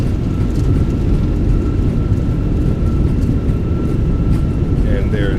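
Airbus A320 landing in a flight simulator game, thrust reversers deployed, gives a loud, steady roar of engine noise with a faint constant tone above it, continuous for several seconds.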